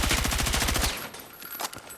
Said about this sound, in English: let's hip fire the hydrant again